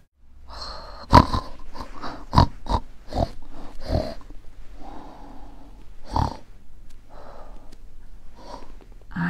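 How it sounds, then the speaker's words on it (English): Rhythmic snorting, grunting breaths recur close by at irregular intervals, with a low rumbling hum underneath and no talking. "I can hear snoring"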